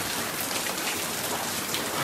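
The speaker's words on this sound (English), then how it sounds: "It is raining inside." Heavy rain pours steadily inside a photography studio flooding during Hurricane Ida in Montclair, New Jersey, a dense unbroken hiss of water close by with no voices.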